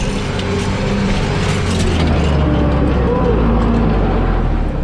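An IH 1486 tractor engine labors hard pulling a chisel plow, a loud continuous diesel drone with mechanical rattling heard up close, and a voice speaking over it.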